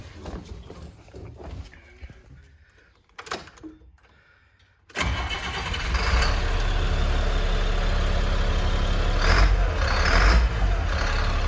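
A diesel school bus engine with its muffler cut off cranks and fires up after quiet shuffling, then settles into a loud, raw straight-pipe roar at high idle, rumbling steadily close by.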